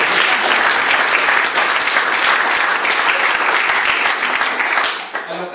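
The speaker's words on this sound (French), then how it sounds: "on peut applaudir ça" Audience at a presentation of the La Hulpe 2018 citizens' list claps loudly and steadily for about five seconds, a dense crowd applause that thins out near the end, with voices mixed in.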